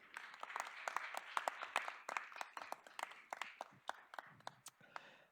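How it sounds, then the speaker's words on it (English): An audience at a university panel event applauds to welcome a philosopher panelist, with distinct individual claps standing out from a moderate, uneven round of clapping. "let's begin with welcoming, with your applause, philosopher, Professor, Dr. Naglis Kardelis"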